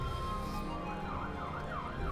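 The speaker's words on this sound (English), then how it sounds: "thanks for that, you bloody police car" A police car siren wails outside a house, its rising and falling tone sweeping continuously at moderate distance over a constant background drone.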